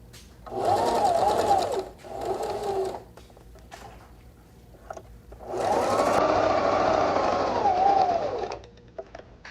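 Sewing machine running at regular stitch length through regular-weight fabric around the pocket of a clutch purse, in two short bursts, a pause with faint handling, then one longer steady run, close and loud.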